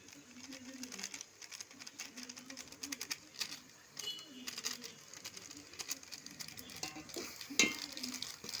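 Tomato biryani in a pan with biryani powder being stirred and sautéed: soft, steady scraping and light clinks of a spoon against the pan over a faint sizzle, fairly quiet and close.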